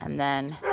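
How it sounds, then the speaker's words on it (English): A pet dog gives a single short bark or yip indoors, close by and brief, with a person talking right alongside it. "that's my dog"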